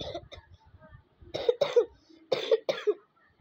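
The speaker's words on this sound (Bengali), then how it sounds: "আমার একটু কাশি হয়েছে।" Several sharp coughs in two quick pairs, close and fairly loud, after a stretch of quieter throaty sounds.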